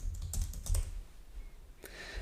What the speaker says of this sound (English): typing in a function name